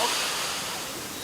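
A steady, broad rush of falling water from a waterfall at Chishui, China, constant and moderately loud, with no distinct breaks or other sounds.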